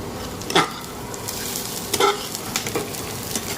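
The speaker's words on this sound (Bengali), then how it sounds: "এখানে পেঁয়াজ লাল করা হচ্ছে পেঁয়াজ কাঁচা লঙ্কা" Onion and green chili fry steadily in a pan, a close, continuous sizzle broken by a few sharp scraping stirs of a spoon.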